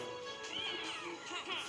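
People imitate cats with a few drawn-out meows in quick succession, close and fairly loud, with voices mimicking the wavering pitch of real cat cries.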